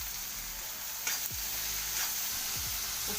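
Onion, beans and capsicum fry in coconut oil in a pan, giving a steady, close sizzle with a couple of brief scrapes or stirring clinks. No one speaks.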